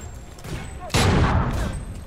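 Gunfire in the video game Homefront The Revolution, shooting through grates: a sudden loud burst of shots midway that decays over the following second, with faint game ambience before it.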